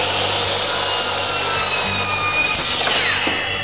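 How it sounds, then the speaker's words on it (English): A power saw cuts through wooden crown molding, a loud continuous whining and rasping bite held steady for several seconds with no voices. "When you're using one of these saws, always get the blade running before you go into the meat."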